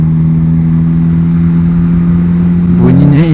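A Mazda RX-8 with an Akrapovic exhaust, heard from behind, drones loudly and steadily, then its pitch rises and wavers near the end as the engine revs.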